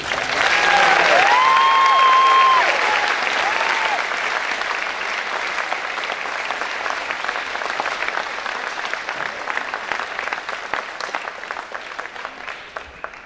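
Audience applause at a high school military signing day ceremony in Georgetown, a loud sustained clapping that starts strong and then settles into steady, slightly thinner clapping.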